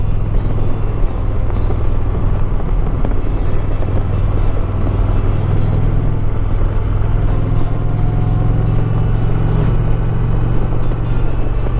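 2022 Indian Dark Horse Pursuit motorcycle ridden hard in Sport Mode at full throttle, a loud steady engine drone with heavy wind buffeting that holds throughout without letup.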